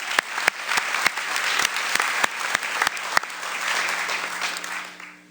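An audience gives a sustained round of applause for a boys track team at a sports awards presentation, with steady clapping, a few sharp individual claps standing out and a slight fade at the end.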